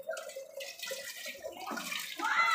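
Water pouring into a pot on a slow stove while cooking, a steady splashing wash with a voice briefly speaking over it.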